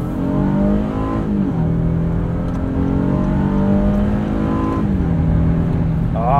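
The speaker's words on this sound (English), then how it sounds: "Let that sweet V6 sing." A 2022 Honda Passport Trailsport AWD's V6 engine revving hard up through the gears of its 9-speed transmission, loud and close, the pitch climbing then dropping at each shift before climbing again.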